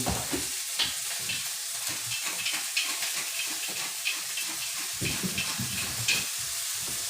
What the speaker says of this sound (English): we're slowly just kind of charring our cauliflower at this point